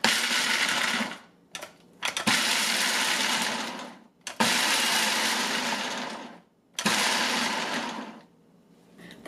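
A Ninja Kitchen System blender with a 4-blade assembly roars loudly in several pulse bursts, each run a few seconds long, with brief silent pauses between as about a cup of shelled walnuts is chopped.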